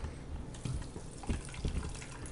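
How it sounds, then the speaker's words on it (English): Water sprays and splashes continuously from a gold paydirt panning setup, agitating the material, with a steady rushing wash and uneven gurgling pulses close by. "so that you can see that water spraying out"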